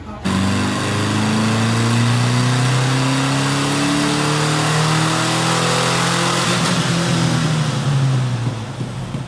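An air-cooled Volkswagen Vanagon engine revs hard on a dyno, a loud, sustained climbing drone that rises steadily through the gears before easing off near the end.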